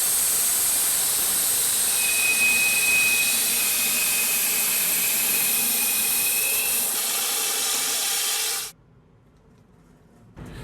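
Steady broadband hiss of a metal lathe taking a 1 mm deep boring cut with a slender boring bar, loud and continuous with a faint high tone, stopping abruptly near the end.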